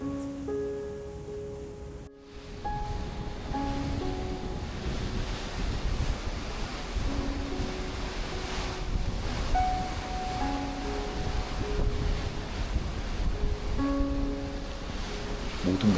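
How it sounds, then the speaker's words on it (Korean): Rough ocean surf and strong wind near Antarctica, a steady loud roar of waves with gusting wind buffeting the microphone throughout and faint tonal notes drifting over the top. "모든 것을 집어삼킬 듯한 거친 파도 앞에서 우리의 길은 또다시 가로막혀버렸다."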